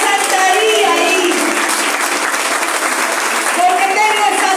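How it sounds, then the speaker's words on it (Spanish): A church congregation applauds in a loud, dense, continuous roar of clapping that lasts the whole stretch, with voices faintly mixed in. "Dale un aplauso."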